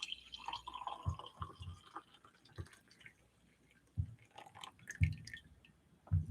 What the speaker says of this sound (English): Coffee. I'll pour this in here just in case.